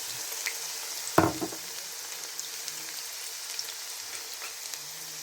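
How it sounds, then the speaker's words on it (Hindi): Onions fry in hot vegetable oil in a pan for a desi bhindi curry: a sharp hiss as they hit the oil, then a soft, steady sizzle with scattered faint pops. "अब इसमें प्याज डाल दूँगी"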